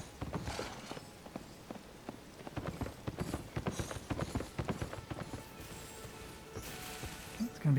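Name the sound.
horse hooves clip-clopping in the video game Elden Ring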